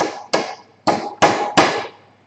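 A hammer drives a nail into wood during hands-on construction work, giving five sharp, close strikes in an uneven rhythm, each ringing briefly before fading, with no talking.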